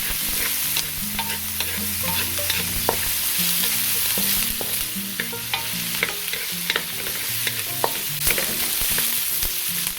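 Garlic and ginger sauté in a pan, meant for a beef-tendon sinigang, with a steady oily sizzle throughout and frequent clicks and scrapes of a spoon stirring against the pan; no talking.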